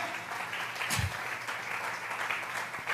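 A church congregation applauding, a sustained wash of clapping from many hands with a low thump about a second in, filling the room evenly.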